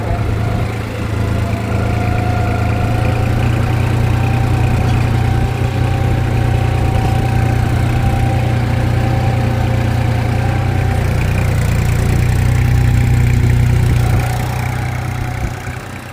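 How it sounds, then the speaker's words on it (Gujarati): A New Holland 5510 4x4 tractor engine pulling a plough chugs continuously with a deep, steady low rumble close by, slightly swelling near the end before easing off. "આ રીતે ટ્રેક્ટર ચાલે છે"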